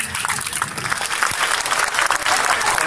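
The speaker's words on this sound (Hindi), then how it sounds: "तालियों से इस्तेकबाल करें" A crowd at a political rally in Bhiwandi claps continuously and loudly, a dense wash of applause that holds steady from start to finish.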